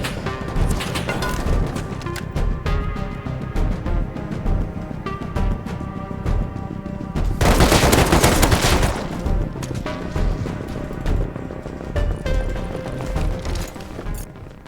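Rapid AK rifle bursts in the survival game Rust, loud and close, with dense repeated gunfire throughout and a heavier, thicker volley near the middle.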